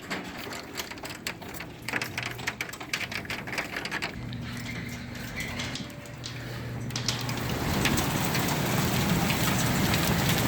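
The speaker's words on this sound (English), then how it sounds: "I think it's hailing real bad" Heavy hail hammers down in the early morning dark, a dense, steady patter and rattle that builds louder toward the end, with no talking over it.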